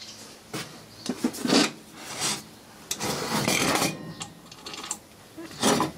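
A light dust-off of a WF3s watthour meter after glass repair, giving soft brushing and rubbing strokes in scattered bursts, close up and fairly quiet with no talking.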